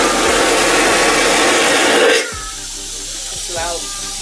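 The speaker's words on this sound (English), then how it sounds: "You want to see the potty flush level?" A cruise ship cabin toilet aboard Icon of the Seas gives a loud vacuum flush, a strong rushing hiss for about two seconds that cuts off abruptly, followed by quieter gurgles and a brief voice.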